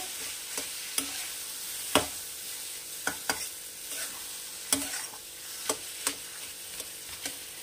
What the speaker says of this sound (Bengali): কমিয়ে দিয়ে তারপর একটু নাড়াচাড়া করবো।